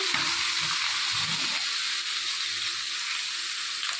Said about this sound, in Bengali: এই একবারে দিয়ে দিলাম এটা একটু ভাজা ভাজা করে নেব